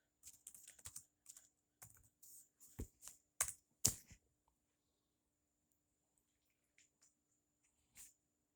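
Bursts of clicky typing on a computer keyboard, a quick run of keystrokes followed by a few louder isolated taps, then near silence with a couple of faint clicks at the end.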